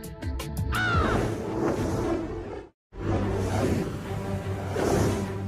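Crows cawing, a rapid series of sharp caws at the start followed by harsh calls and rustling, broken by a brief silence, then more cawing and flutter.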